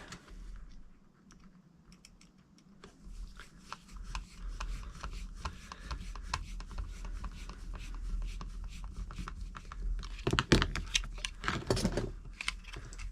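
Plastic parts are screwed onto the gearbox of a Tamiya Saint Dragon model kit with small, close, irregular clicks and scratchy turning sounds, getting louder and busier near the end, with no talk.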